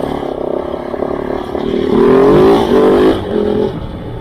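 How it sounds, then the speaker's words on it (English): A Kove 450 Rally motorcycle's single-cylinder 450 engine revs up close and loud, its pitch climbing and holding briefly before easing back to a steady idle. "This little engine loves to rev."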